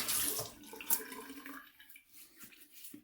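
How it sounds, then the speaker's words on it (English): Cold tap water splashes briefly at the start, then fades to quiet with a few soft drips and small handling noises. "Again, cold water rinse."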